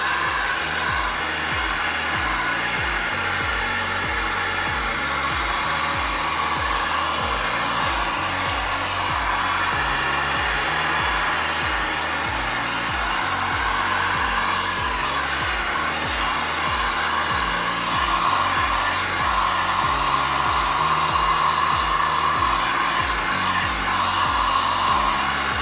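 A heat gun blows steadily and continuously at close range over a white marble-effect epoxy resin worktop, a constant loud whooshing airflow with no talk.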